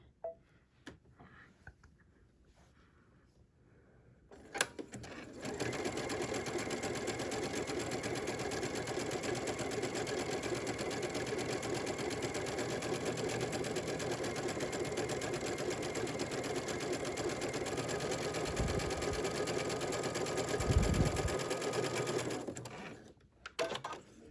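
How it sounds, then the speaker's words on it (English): A digital sewing machine fitted with a dual feed walking foot and a stitch-in-the-ditch sole stitches batting pieces together. After a quiet start it gives one steady, even mechanical whir that runs for about eighteen seconds before stopping. "We have our batting sewn together, and it stayed nice and flat because we were using our walking foot."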